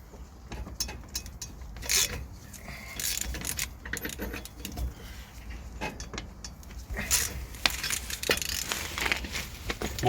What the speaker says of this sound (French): On vient juste débloquer les écrous.